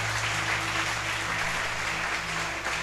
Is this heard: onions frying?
no